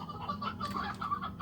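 Chickens cluck in the video game Slime Rancher, a short run of soft, close clucking notes over a low steady background hum.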